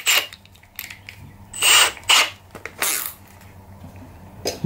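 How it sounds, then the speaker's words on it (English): A Milwaukee red helix drill bit run in an impact driver boring a hole under sideways pressure, giving several loud broadband bursts of drilling and hammering in short spurts with brief pauses between. "And it actually drilled the hole while I was putting sidewood pressure on there."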